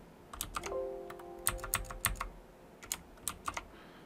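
Keys tapped on a computer keyboard in short irregular bursts, close and fairly quiet, with a faint tone partway through.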